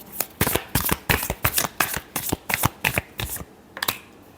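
Tarot cards are shuffled in a quick run of about a dozen crisp riffling bursts, loud and close, with a short pause before one final snap.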